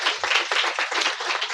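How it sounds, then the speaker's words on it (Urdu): A church congregation at a sermon claps loudly and continuously, a dense, close, unbroken wash of many hands. "زوردار تالیاں بجائیں"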